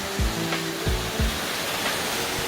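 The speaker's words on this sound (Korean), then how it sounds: "6단 폭포는 이렇게 출렁다리에서 감상을 할 수 있도록 되어 있습니다" Yukdam Falls, the six-tier waterfall of Seoraksan's Towanggol valley, sends up a loud, steady broadband rush of falling water, with a few brief low thuds near the listener.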